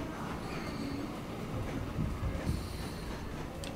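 Train rolling along in Transport Fever 2, a steady dense rumble of wheels and carriage noise with faint high squeals near the end, continuous and moderately loud throughout.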